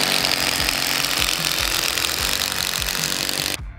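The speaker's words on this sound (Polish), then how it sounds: "teraz dociśniemy takim długim wkrętem tą płytę, żeby ona elegancko tu siedziała do ziemi" Power drill driving a long screw into a board to press it down to the ground outdoors, a loud continuous buzzing whir with rhythmic pulses that stops abruptly near the end.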